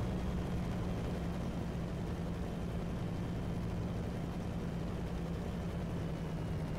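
A plane engine in War Thunder played in virtual reality drones at a steady low pitch, faint and even throughout, with no clear change in throttle and no speech.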